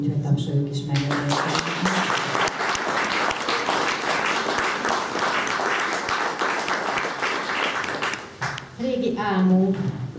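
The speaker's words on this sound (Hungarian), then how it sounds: "külön gratuláció Sorkida Andornak, úgyhogy tapsoljuk is meg" An audience applauds at an art exhibition opening in a villa, steady clapping filling the room for several seconds before a voice begins speaking as it fades.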